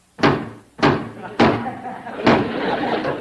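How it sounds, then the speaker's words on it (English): Four heavy thuds pound on a garage door at uneven intervals, each booming and echoing before the next, loud and close, with a continuing rumble after the last blow. "I can hear them pounding on the door."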